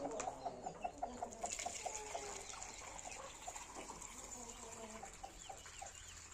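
Country hens clucking in a coop, a run of repeated close clucks at first, then softer scattered calls over a steady background murmur.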